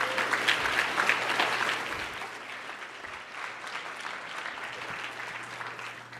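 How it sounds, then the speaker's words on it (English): Conference audience at the Yale School of Management breaks into sustained applause, loudest at first and then settling into a steady, slightly softer patter of many hands. "can we take a moment and just give all of those people a great big round of applause?"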